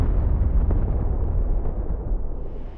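Mark 20 bombs detonate in an A-10A flight simulator game, producing a heavy, continuous rumbling blast that rolls on for a few seconds, loud and deep with no voices.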